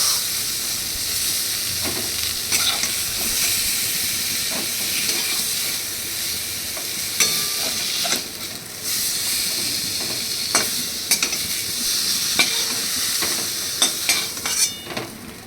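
Eggplant pieces fry in oil in a pan with a steady, close sizzle and hiss, broken by light scraping and clicks as they are stirred.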